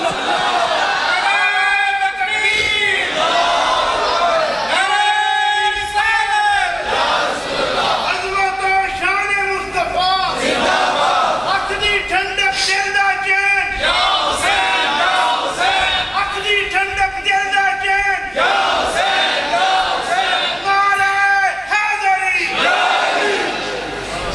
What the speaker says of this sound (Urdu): اس خوبصورت نعرے دا خوبصورت جواب